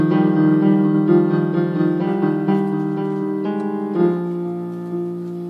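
Sustained piano chords ring out one after another, shifting harmony every second or so and fading slightly toward the end.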